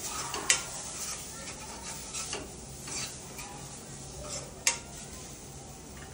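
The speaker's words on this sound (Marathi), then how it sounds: "आता आपण या टोमॅटो मध्ये आपलं घरगुती मालवणी मसालो, हळद, लाल तिखट आणि गरम मसालो हे सगळं टाकूया आणि मसाला चांगलं जरा वेळ भाजून घेऊया" Homemade Malvani masala, turmeric, red chilli powder and garam masala roasting with tomato for a horse gram curry, a soft steady sizzle under occasional scrapes of a spoon and two sharp clinks against the pan.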